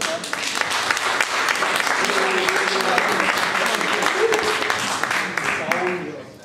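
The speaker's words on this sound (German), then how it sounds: "das ist jetzt schon mal dein Applaus hier" Warm, continuous applause from a club audience greeting a live singer before his set, steady hand clapping with a few murmured voices and a brief tonal sound mixed in, fading at the end.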